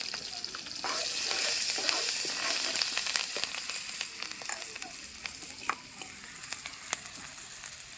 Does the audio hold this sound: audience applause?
no